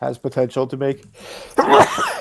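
A single loud sneeze bursts out right after a stretch of conversational speech, sharp and close.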